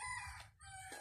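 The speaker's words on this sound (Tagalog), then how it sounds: "At syempre, may mga manok." A rooster crows in a rural village, two loud nearby calls in close succession with a brief gap between them, over steady low background rumble.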